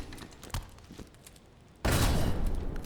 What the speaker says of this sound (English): Grenades have large blast radius